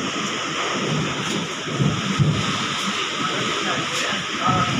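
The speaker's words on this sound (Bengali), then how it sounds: "প্রচুর ঝড় উঠেছে" Strong storm rumbling with heavy wind and thunder on a day out shopping for a motorbike, a loud, steady roar with swelling gusts and a hissing wash filling the whole stretch.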